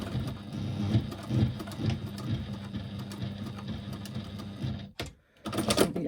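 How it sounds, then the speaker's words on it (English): A sewing machine stitches across a fabric pad for a press bag, running in a fast, steady mechanical chatter, then briefly stopping before a short burst of back-stitching. "to the other, and then back stitch just a few stitches just to ensure that your stitching doesn't come undone"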